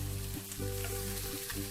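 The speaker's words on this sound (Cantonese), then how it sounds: "腩咧，我就已經煎到佢香咗噶啦" Lamb belly fries in its own fat in a wok, giving a steady close sizzle with faint hollow clinks from the pan.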